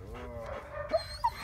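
Dog whimpering with soft panting breaths, two short high whines standing out close and quiet over a brief clip.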